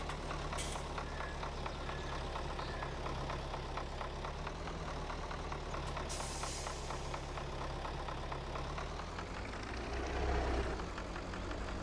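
A tractor's engine in Farming Simulator 22 idles with a steady low rumble and rapid even knocking pulse, unchanged throughout with no talk over it.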